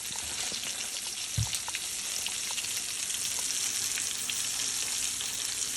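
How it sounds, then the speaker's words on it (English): Deer heart burger sizzling steadily in a frying pan, a constant close crackle of frying fat with small pops, no talking. "So we're watching it closely, and it's sizzling."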